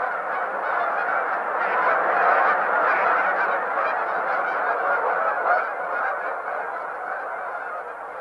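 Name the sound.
geese honking at Horicon marsh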